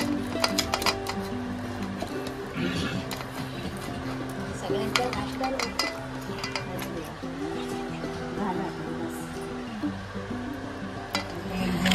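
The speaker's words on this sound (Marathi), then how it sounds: "आता आपण जे नारळाचं दूध काढलंय त्याच्यामध्ये आपण गूळ मिक्स करून घेणार आहे." Jaggery is stirred into fresh coconut milk in a kitchen, with a continuous clatter of a spoon against the vessel and light scraping, while someone talks quietly underneath.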